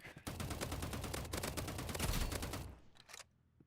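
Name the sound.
gunfire from Marvel Rivals video game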